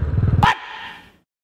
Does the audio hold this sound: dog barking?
yes